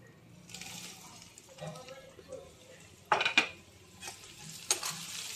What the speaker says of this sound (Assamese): এই কাটি থোৱা জলকীয়াখিনি ইয়াত ঢালি দিম